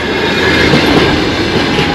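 Loud, close rumble of a passing train's railroad cars at a Lazarevskoye crossing near Sochi, a dense continuous rolling roar with rhythmic wheel clatter and a hint of squeal, no talking.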